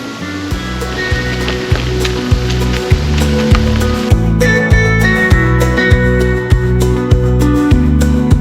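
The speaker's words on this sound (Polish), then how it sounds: "właśnie zaczyna padać deszcz" Rain beginning to fall on a forest bike ride through the Janów woods, a steady broadband hiss of drops with a regular rhythmic thumping underneath, continuous and fairly loud throughout.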